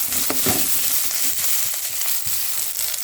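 Onions sizzle steadily in a hot pan for a Bengali fish curry, a continuous close frying hiss with a few brief stir scrapes and crackles, no talking.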